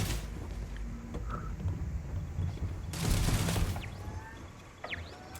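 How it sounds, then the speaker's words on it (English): Gunfire in the Starfield video game, a burst of shots sounding near the middle amid a busy game soundscape with faint background tones. "Why is that shooting at me?"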